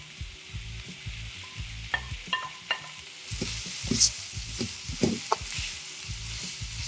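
Carrots, cabbage and pak choy stir-fried in a wok, with a steady close sizzle and repeated scraping stirs of the spatula throughout, and no talking.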